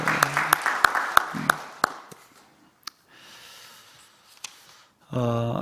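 Church congregation giving applause of comfort during a Sunday worship service, a brief burst of scattered claps that fades quickly, followed by quiet room sounds, isolated clicks and a voice starting at the end.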